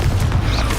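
Confringo fire blast spell from the video game Hogwarts Legacy, a loud, dense low rumbling burst lasting under a second, with a booming, crackling body and no voices over it.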